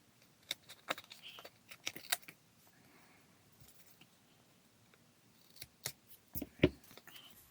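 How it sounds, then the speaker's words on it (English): Scissors trim cardstock while a Halloween greeting card is being made: a few quiet, crisp snips in small clusters, separated by near-silent pauses. "we're going to trim this so it's flush against the cardstock"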